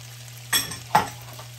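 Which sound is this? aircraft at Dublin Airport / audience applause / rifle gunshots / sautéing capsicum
sautéing capsicum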